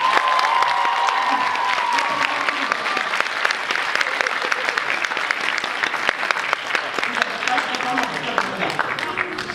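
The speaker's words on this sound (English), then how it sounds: "Give them a round of applause." Sustained audience applause fills the room from start to finish, dense and steady, with scattered cheers and voices mixed into the crowd noise.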